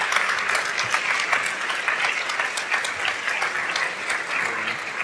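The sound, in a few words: audience applause at a longevity summit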